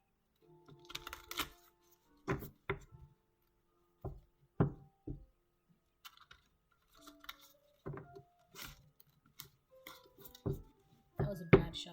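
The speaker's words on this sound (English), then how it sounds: "That was a bad shuffle." A deck of tarot cards is shuffled in short, scattered bursts of crisp snapping and tapping, fairly quiet and close, with pauses between each handful.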